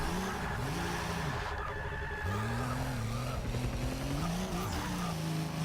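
A home-built drift car corners with tires squealing in long, wavering bands over a loud, steady engine drone, the squeal sliding up and down as the car slides through the bends.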